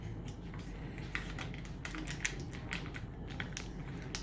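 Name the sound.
package being ripped open for baking cookies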